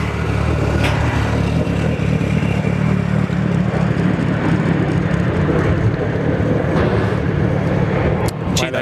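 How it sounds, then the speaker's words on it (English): Boeing 737 jet engines idle at Sydney Airport, producing a loud, continuous broadband roar and rumble with an uneven, unusual tone. Scattered brief clicks and knocks sit over the steady noise. "those 737s sound like Mitsubishis these days, don't they? Yeah, it's got a funny idle sound"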